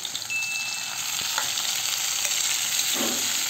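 Squid sizzles in a pan of hot chilli garlic oil, a loud continuous fry close up with brief stirring scrapes near the end.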